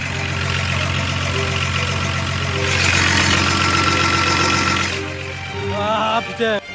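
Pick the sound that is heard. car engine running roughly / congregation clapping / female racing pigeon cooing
car engine running roughly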